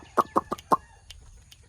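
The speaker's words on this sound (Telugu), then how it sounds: "ఇగో కోళ్ళు మన కోళ్ళు మొన్న తెచ్చిన కోళ్ళు ఇవే" Four quick, loud clucks from a nearby chicken in a rapid run, followed by a couple of faint softer calls against a quiet background.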